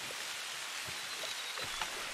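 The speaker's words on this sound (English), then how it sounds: "I think the rain will mask some of our sound" Rain falling in the hunting video game TheHunter: Call of the Wild, a soft, steady hiss of light rainfall with scattered faint drops and no voices.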